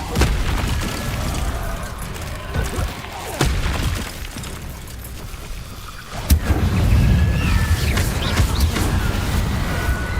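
Incendio fire spell blasts in Hogwarts Legacy, a few loud booming bursts with crackling fiery whooshes, the heaviest near the end, amid game sound and a voice casting spells.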